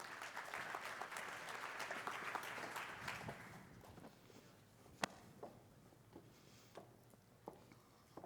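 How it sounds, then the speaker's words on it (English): Audience applause at a business conference showcase, dense and steady for about three seconds, then thinning out into scattered individual claps and a few sharp louder claps as the crowd settles. "Let's give them a round of applause."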